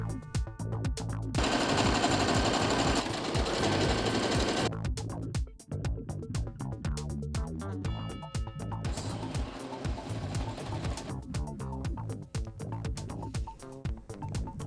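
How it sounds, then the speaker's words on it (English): A sewing machine stitches suede and fabric skirt pieces for an Ezio Assassin's Creed cosplay, running in fast, loud mechanical bursts of rattling stitches with brief pauses between runs. "Then I'll sew all of my skirt pieces together."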